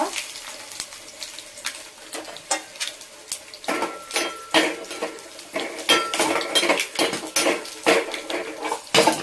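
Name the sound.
crushing unpeeled garlic cloves by pounding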